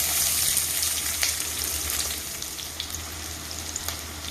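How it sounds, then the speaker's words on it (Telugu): Sliced onions and green chillies fry in a tablespoon of oil, crackling with a loud, dense sizzle that is close and continuous. Brief stirring noises and a faint splash rise above it. "టేబుల్ స్పూన్ ఆయిల్ వేస్తున్నాను ఉల్లిపాయలు వేస్తున్నాను"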